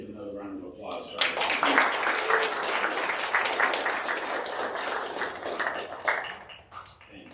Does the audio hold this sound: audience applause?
yes